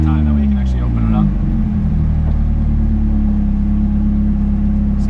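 A car engine revs hard and then settles into a loud, steady, droning rumble close by. Voices can be heard talking over it.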